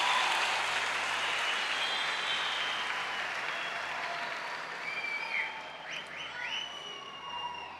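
A large conference audience in an arena applauds, a dense sustained roar of clapping that gradually eases, with a few faint shouts near the end.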